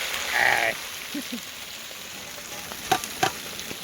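Hot oil in an outdoor cooking pan sputters and crackles as rain falls into it during a rainy jungle picnic, with short sizzling bursts and a few sharp pops against faint steady rain.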